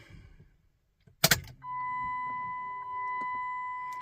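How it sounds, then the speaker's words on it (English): A 1998 Jeep ZJ 5.9 Limited engine gives a brief loud catch as it starts, then settles into a steady idle with a constant whine, close and clear. "Let's see if it'll crank back up and run."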